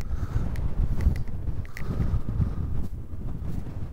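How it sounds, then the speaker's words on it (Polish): Strong mountain wind in Peru buffets the microphone with heavy low rumbling gusts, steady and loud, with a few faint clicks and knocks. "Ale jest wichura, jest taka wichura."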